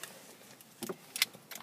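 Light metallic jingling of two sets of car keys for a Volkswagen Golf S TSI in a few short bursts, close by and fairly quiet, with brief pauses between shakes.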